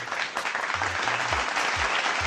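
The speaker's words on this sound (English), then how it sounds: "Give him a clap." Clapping from a small group during a live stream, a steady patter of claps with a few distinct nearer claps and some low thumps underneath, moderate and continuous.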